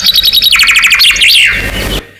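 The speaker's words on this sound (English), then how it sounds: "William Thorpe in Cambridge studied these chaffinches, and they naturally have a song like this" A loud recorded chaffinch song plays: a rapid descending series of bright chirping notes, then a quicker trill ending in a flourish, cut off after about two seconds.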